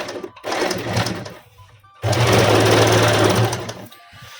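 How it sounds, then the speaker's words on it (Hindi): A sewing machine runs in two bursts while stitching a 4-kali petticoat, with a short pause between a shorter first run and a longer steady second run, loud and close with no talking. "तो देखिए इसको अब हम इस तरह से सिलते हुए चले जाएंगे और पूरा एंड तक आ जाएंगे।"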